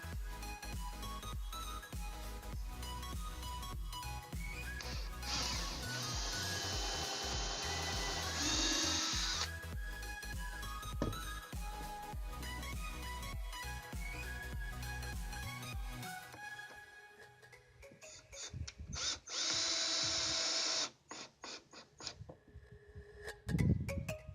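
A power drill drives screws into 45-degree mitered wooden legs of a rustic side table, two sustained whirring runs separated by a stretch of workshop clatter, all fairly faint, with no talk.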